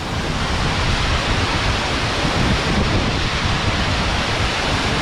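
A waterfall in the Georgian mountains near the Russian border gives a loud, steady, broadband roar of rushing water that fills the whole stretch without change.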